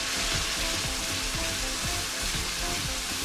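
Whole tin of tomatoes frying in a pan for a fresh fenugreek and chicken curry, a steady close sizzle with soft stirring scrapes throughout, no talking.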